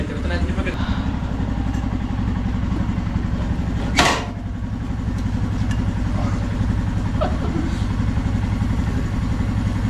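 A heavy motorcycle engine idles steadily with a deep, lumpy thump, close and loud throughout, with a brief sharp burst partway in.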